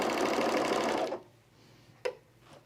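A serger with its cutting knife ahead of the needle stitches zip hoodie fabric with a loud, steady whirring run of about a second. It then stops abruptly, leaving a couple of faint clicks.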